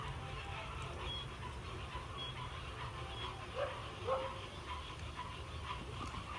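A dog gives a couple of faint, brief barks or yips near the middle, far from the microphone under a steady background hum.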